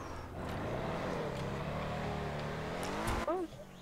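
A 4x4 in GTA 5 drives with its engine droning and revving steadily, then brakes with a brief tire squeal near the end while someone talks over it.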